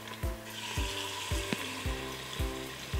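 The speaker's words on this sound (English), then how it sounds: "Nice sizzle there." Chicken pieces sizzle and crackle in hot oil inside an Instant Pot, a steady frying hiss punctuated by six evenly spaced soft thumps as pieces are laid into the pot.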